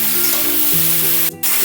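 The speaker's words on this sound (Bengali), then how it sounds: "হালকা করে লাউটা আমি নেড়ে নেব, মানে ভাজা ভাজা করে নেব।" Bottle gourd frying in a pan makes a close, loud sizzling hiss over a low steady hum. The sizzle cuts out briefly near the end and then resumes. No voices are heard.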